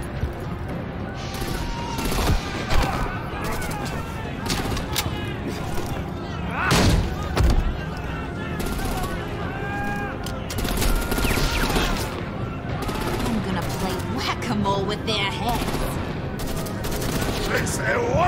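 Gunfire in the video game Batman: The Enemy Within, repeated loud shots and bursts with heavy thumps and booms, mixed under dramatic game sound and character speech.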